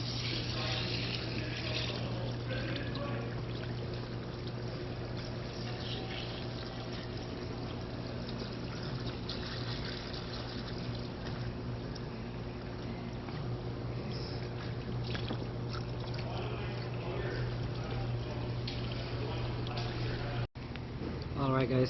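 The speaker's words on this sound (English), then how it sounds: "Draining the fluid." CVT transmission fluid drains from the open drain plug of a 2016–2021 Honda Civic, a continuous pouring trickle over a steady low hum, with no talk.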